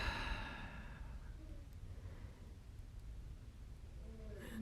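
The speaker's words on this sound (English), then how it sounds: "Exhale." A slow, steady exhale during a yoga stretch, a soft breathy rush that holds at low volume for several seconds in a quiet room.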